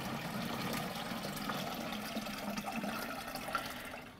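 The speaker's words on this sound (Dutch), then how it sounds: "Deze 10 liter giet ik nu over in een 10 liter gieter." Nematode solution is poured from a container into a 10-litre watering can, giving a steady, continuous splashing pour of liquid that runs unbroken for the whole stretch with no talking.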